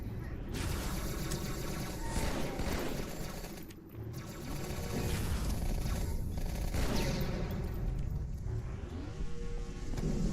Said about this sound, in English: Those battle rifle shots were nasty too